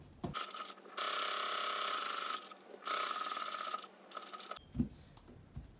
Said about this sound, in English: So I'll only sew this part and leave the bottom part open, unsewn.